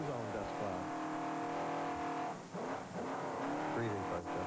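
A 1998 Baja 1000 Truggy race car, number 100, heard from inside the cockpit, its engine droning loud and steady with rising and falling revs and brief dips as it charges across the desert.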